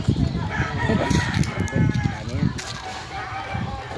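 Chickens cluck and call close by, mixed with people talking over the top of them.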